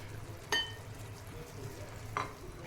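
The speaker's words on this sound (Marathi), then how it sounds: "तळलेले बटाटे मी त्यात घातले." Fried potatoes stirred into boiling gravy for dum aloo, with a soft continuous simmer and two sharp spoon scrapes against the pan, one early and one later.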